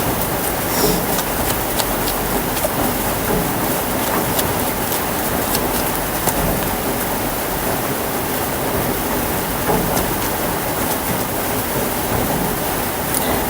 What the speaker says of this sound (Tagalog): kung may maingay, pasensya na kasi medyo umuulan siya ng konti ngayon